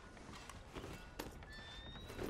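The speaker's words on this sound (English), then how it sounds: "That's a nice looking horse, though." A horse walks in Red Dead Redemption 2, hooves clip-clopping in a loose, irregular rhythm at moderate distance, with a faint snort or whinny mixed in over soft ambient outdoor sound.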